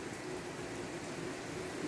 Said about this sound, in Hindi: बहुत तेज बारिश हो रही है हमारे यहाँ